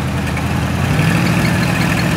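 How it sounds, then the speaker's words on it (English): An old race car engine runs steadily at a classic car and motorcycle show, a loud, continuous low rumble close by with no talking over it. "Hear that engine?"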